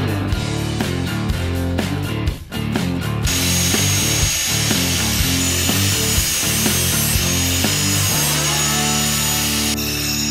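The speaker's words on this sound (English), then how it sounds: "Now sand off all the powder coating at all the points on the subframe connector where you're going to be welding." Power sander grinding powder coating off the weld points of a steel subframe connector for a Ford Mustang, a loud, steady abrasive whine with brief pauses and shifts in pitch, heard alone with no talking.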